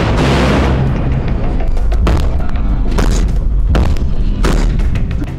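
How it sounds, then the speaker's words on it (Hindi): Russian navy warships launching missiles: a series of heavy, booming blasts roughly a second apart, each a loud, broad roar that swells and fades, with no talking. "किम के सामने रशियन नेवी ने मिसाइलें फायर की"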